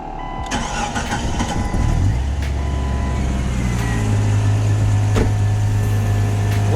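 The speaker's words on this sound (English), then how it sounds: "let me start the truck" A truck engine cranks briefly and catches, then settles into a steady low idle that runs on loud and close, with faint clicks above it.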